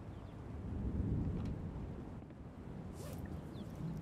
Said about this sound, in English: It's raining outside, cool.